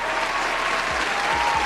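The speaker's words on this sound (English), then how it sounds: "Give her a round of applause." An audience gives a brief burst of steady, dense applause that fills the whole short moment, with no talking over it.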